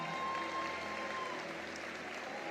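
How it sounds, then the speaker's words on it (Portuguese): An audience gives a short round of applause at a religious gathering, a dense, steady patter of many hands clapping at a moderate distance, with a faint tone lingering in the background. "Forte aplauso para o Wesley, trabalhador."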